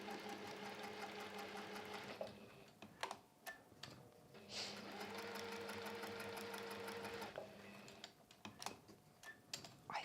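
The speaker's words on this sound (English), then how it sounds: "And then we're going to sew everything in place then." A sewing machine stitches through several layers of fabric with a longer stitch length, running in quick rhythmic bursts of needle clatter separated by brief pauses and clicks, close and fairly quiet.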